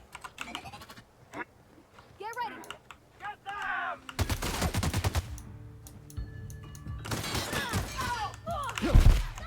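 Gunfire in the video game The Outer Worlds, sharp bursts of shots and impacts mixed with other game effects, loudest in the second half, with a voice talking intermittently over the action.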